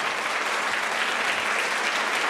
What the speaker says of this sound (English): Come on, one more time, round of applause